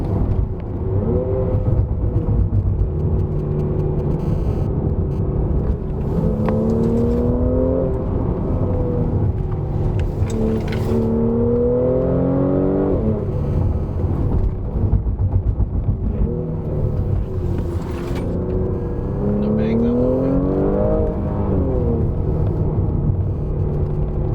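A Mercedes C43 AMG with all-wheel drive descends the Genting highlands road, its engine rumbling steadily inside the cabin with repeated rising and falling revs through the bends, no talking.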